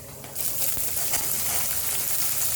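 Onions hitting a hot kadai burst into a loud, steady sizzle that jumps up suddenly and holds as a dense hiss, with occasional soft clinks from a stirring utensil.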